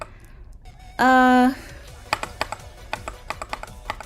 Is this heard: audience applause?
no